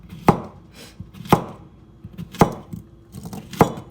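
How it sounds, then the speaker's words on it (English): Knife chopping zucchini into thin rings on a cutting board, four sharp, evenly spaced thuds with faint softer taps between them, close and clear in a quiet kitchen. "So I'm going to cut these up kind of thin"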